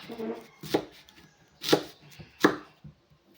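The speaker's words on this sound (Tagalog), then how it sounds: "Halatang hindi sanay maghiwa, no?" Knife slicing through a guava on a board, three separate crisp cuts spaced about a second apart, close and fairly quiet, with no talk.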